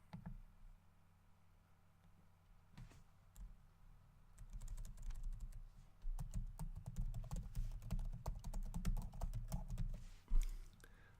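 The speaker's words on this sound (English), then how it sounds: "now let's type in a username." A username being entered on a computer keyboard, heard as quiet, close key clicks that start sparse and then run in a steady flurry of taps, ending with a firmer stroke.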